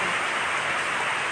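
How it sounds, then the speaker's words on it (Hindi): Heavy rain pours down outdoors in the Korangi area of Karachi, a loud, steady broadband hiss that fills the whole moment without letup or voices. "देखें कैसी बारिश हो रही है के एरिया में।"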